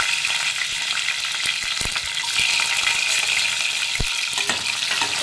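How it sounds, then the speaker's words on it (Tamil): Garlic fries in oil in a clay pot with mustard seeds and fenugreek, making a dense, crackling sizzle close up, with sharp pops and scraping stirs throughout and no talking. "பூண்டு இந்த மாதிரி வதங்கிடுச்சு"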